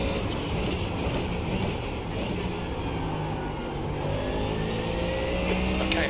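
A GT3 Mustang race car at the Nurburgring during a 4 hour endurance race, its engine a loud, continuous roar with shifting pitch that drones on without a break.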